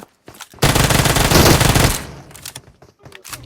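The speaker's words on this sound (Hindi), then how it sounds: "यहाँ पे फायरिंग का साउंड आता है" Sustained automatic rifle fire in PUBG Mobile, a loud dense burst of rapid shots lasting over a second, followed by a few scattered softer shots and game noises.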